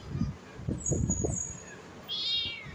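A cat gives a few short, close meows in quick succession, followed by a higher, drawn-out cry, with a little background noise.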